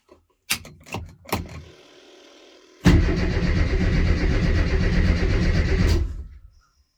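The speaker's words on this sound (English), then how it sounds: "let's see if it turns over" A classic Mini's engine cranks over on the starter after a starter motor solenoid change: a few sharp clicks first, then about three seconds of loud, steady rhythmic churning that stops without the engine firing.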